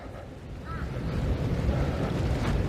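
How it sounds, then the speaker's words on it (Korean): Strong wind gusting across an outdoor hilltop park in Busan, a dense, low rumbling roar buffeting the microphone, building steadily louder over a few seconds with no clear voices. "지금 바람 엄청 불어요 바람이"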